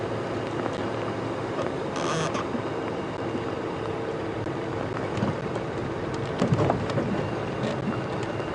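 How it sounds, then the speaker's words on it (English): Steady rain patters during an open-vehicle safari drive at Djuma and Arathusa, a constant close hiss of drops with occasional louder splashes and knocks, no voices. "the rain is not ideal"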